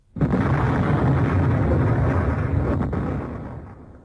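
A loud, sustained roaring blast that fills the space for several seconds before slowly fading away.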